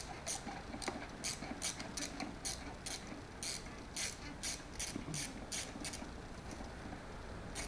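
A ratchet tightening clutch cover bolts on a 2007 Suzuki RM85 dirt bike, with rapid rhythmic clicking strokes repeating in short bursts, close and fairly quiet, with no talking.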